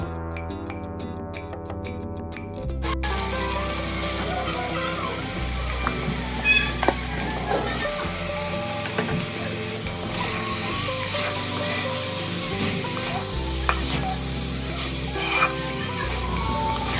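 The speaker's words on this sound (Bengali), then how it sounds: "আর এখন এইভাবে মশলাটা সুন্দর করে কষিয়ে টষিয়ে রান্না করে নিচ্ছি" Spice paste sizzling and frying in a pot while khichuri is cooked in a home kitchen, a steady loud crackle with occasional stirring clinks throughout.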